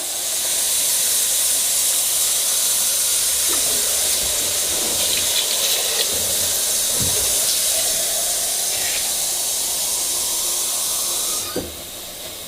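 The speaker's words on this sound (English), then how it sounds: "I'm going to add water to it." Water poured into a hot pot of cheeseburger soup sets off a loud, steady steam hiss that fills nearly the whole stretch and then drops away abruptly near the end.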